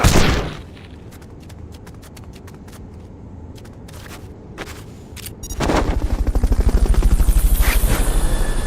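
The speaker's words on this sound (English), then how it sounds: "Fulton recovery helicopter is complete." Metal Gear Solid: Peace Walker game audio with sharp bursts of gunfire, then the Fulton recovery helicopter's loud, steady rotor chop drowns out everything else.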